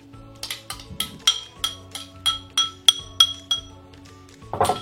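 Wakame and buckwheat salad being mixed in a salad bowl, giving a steady run of bright clinks and taps of a utensil against the bowl, close and clear with no talking.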